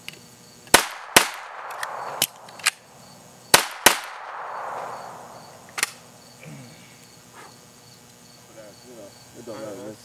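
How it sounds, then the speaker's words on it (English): Gunshots ring out at an outdoor shooting range, several sharp loud cracks spaced irregularly over a steady background hum of insects, with faint distant voices near the end. "you can shoot all you want, man"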